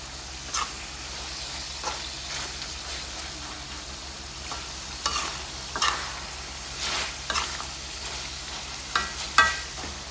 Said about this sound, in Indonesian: Goreng kicap kering.